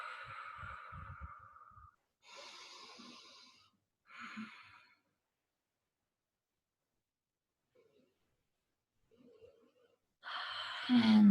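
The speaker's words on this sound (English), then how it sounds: "Deep breath." Deep breathing in a yoga class: a few slow, audible inhales and exhales separated by near silence, close and fairly soft, with a louder breath at the end.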